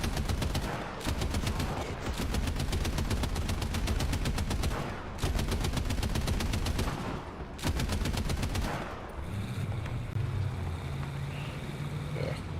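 Rapid machine-gun fire from a vehicle in the War Thunder combat game, loud sustained bursts with brief pauses between them, then a lower mechanical rumble near the end.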